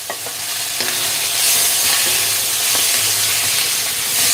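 Rice tipped into a hot pan for cumin rice, sizzling and frying steadily with scraping stirs, loud and close with no talking.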